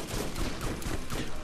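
Rapid shotgun fire in the video game Borderlands, a dense unbroken volley of loud, close blasts running throughout with no talking.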